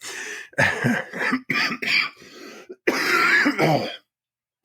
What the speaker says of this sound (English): Obviously, I still got that cough.